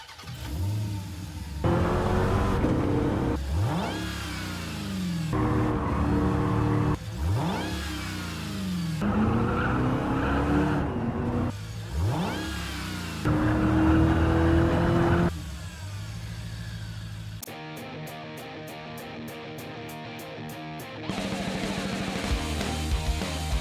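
A loud V8 Dodge engine in a Willys jeep revs repeatedly in sharp bursts, rising and falling, then settles into a steady rumbling idle with a clattering rhythm.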